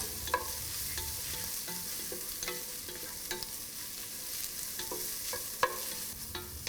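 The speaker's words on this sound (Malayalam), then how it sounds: "വെളുത്തുള്ളി, കറിവേപ്പില എന്നിട്ട് നന്നായിട്ട് വഴറ്റുക." Garlic and curry leaves sauté in hot oil in a pan for okra mappas, a steady sizzle with sharp intermittent clicks and scrapes of a spoon stirring, close and without talk.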